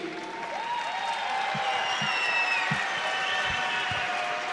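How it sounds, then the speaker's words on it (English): An audience at an XFS MMA event applauds both fighters, steady clapping from a crowd heard at moderate distance, with an announcer's voice carrying over it. "a big round of applause for both fighters,"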